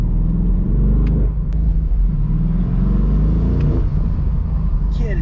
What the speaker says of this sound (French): le kiff d'entendre ce V8 là